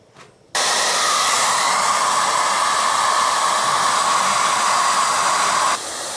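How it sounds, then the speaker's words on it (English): Heat gun warming a Mach 1 chin spoiler on a Foxbody Mustang, switching on with a sudden loud steady blowing roar that holds close and constant for about five seconds, then dropping slightly. "Now I'm going to put the heat gun on it."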